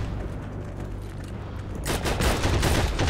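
Sustained rapid machine-gun fire from an MG42 in the World War II shooter Heroes and Generals, a dense continuous burst that starts suddenly partway through and stays loud over a rumbling battle background.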